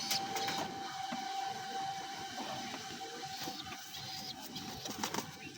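Bombay pigeons cooing in a loft, low soft coos repeating under a steady mechanical hum and scattered rustling, fairly faint and close.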